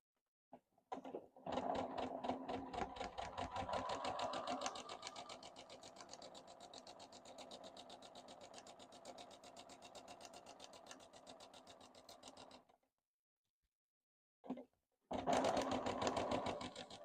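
A sewing machine stitches around a Christmas patchwork piece, a fast, steady mechanical whir of needle strokes running for about eleven seconds, then stopping, followed by a brief burst and another run.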